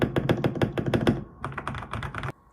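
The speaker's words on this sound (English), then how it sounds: "can we get a custom mechanical gaming keyboard like this?" Someone types on a custom mechanical gaming keyboard, a quick burst of crisp, clacky keystrokes followed by a slightly softer second flurry, close and distinct, then it stops.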